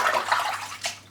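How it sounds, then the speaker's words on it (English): Water rinses soap out of a shaving brush at a sink, a close, steady splashing and running wash that continues throughout, with a brief louder splash near the end. "Just rinse the soap out now."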